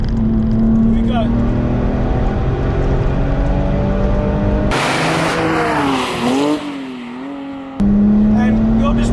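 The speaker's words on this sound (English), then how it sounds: "And that noise from that flat six is fantastic." A 575 bhp Porsche 911 996 Turbo X50 with a flat-six engine, heard from inside the car: a loud, steady engine drone climbs through the gears with a brief surge and a pitch dip at a shift.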